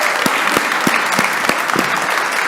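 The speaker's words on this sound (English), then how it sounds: "a round of applause for our special guest" Audience applause at a morning summit for a school principal introduced as special guest, a steady wash of clapping with a few louder, sharper claps standing out at regular intervals.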